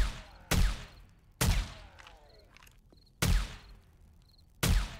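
Gunfire in the video game 7 Days to Die, four sharp, loud single shots spaced about a second apart, each followed by a fading echo and faint game ambience.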